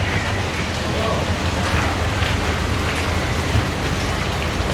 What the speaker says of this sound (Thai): ฝนตกพี่น้องเลย